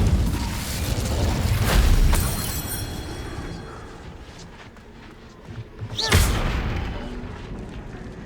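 An Incendio fire spell is cast in a Harry Potter video game, loud booming blasts and crackling bursts over a busy game soundscape, with a strong hit early on and another sharp burst near the end.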